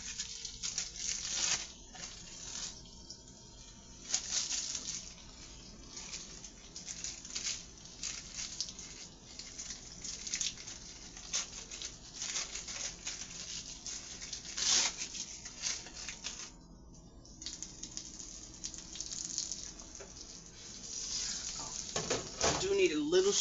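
Sizzling and stirring of American cheese slices frying in a pot, with faint plastic wrapper crinkles, utensil scrapes and clatter against the pot, a steady close crackle under occasional talk.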